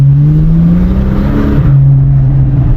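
Naturally aspirated flat-six of a Porsche 911 991 droning loud and close in an underground passage, a steady rev that rises briefly mid-clip then settles back, with a strong boomy reverberant tone.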